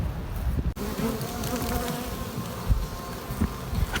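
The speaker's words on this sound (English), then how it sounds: "This is a happy colony of bees." A dense, continuous buzz of a honey bee colony swarming close by, a steady droning hum with no voices.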